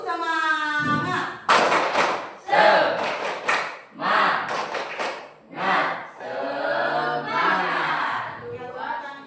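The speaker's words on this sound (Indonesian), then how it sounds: "Tepuk semangat." Classroom students performing a rhythmic spirit clap, several grouped bursts of sharp hand claps in a patterned beat, loud and close, with voices chanting along between the claps.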